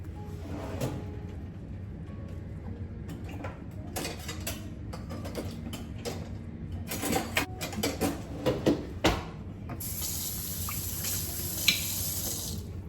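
Watery watermelon being drained with a slotted spoon in a home kitchen, giving wet dripping and scraping clatter with sharp metallic clinks, moderately close, with no talking.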